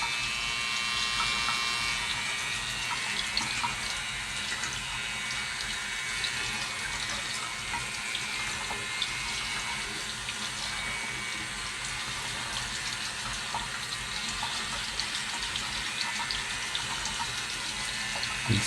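A HACLI cordless nose and ear hair trimmer running under tap water, with steady rushing faucet flow filling the whole stretch and the motor hum buried beneath the splashing.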